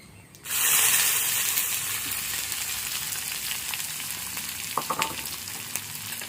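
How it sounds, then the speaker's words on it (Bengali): Chopped onions fry in a pan over cumin tempering, a steady close sizzle and hiss that swells at the start and continues throughout with a few small crackles, no voices. "পেঁয়াজটাকে একটু ভেজে নিতে হবে।"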